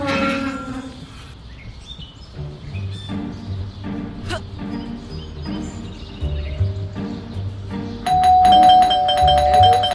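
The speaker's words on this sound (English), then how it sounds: "That stupid bell again" A doorbell chime sounds partway through a Scary Teacher 3D game scene, a brief bright ring standing out over a busy, music-heavy backdrop with light cartoonish effects.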